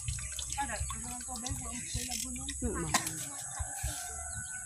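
Water runs into a plastic basin in a rural home, with a steady faint splashing trickle under a voice talking and chirping birds in the background.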